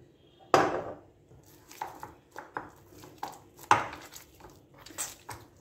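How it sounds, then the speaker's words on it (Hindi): Dough being worked by hand with oil in a home kitchen, a sharp knock followed by a string of soft slaps and squishes at an uneven rhythm, close and fairly quiet. "अब इसमें तेल डाल लेंगे अपन, तेल अच्छा डालना और आटे को अच्छा गुनना अपन।"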